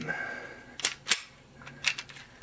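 Pin pulled from a KelTec pistol and its slide pushed forward, giving a few sharp metallic clicks and clacks close by, spaced out over a quiet background.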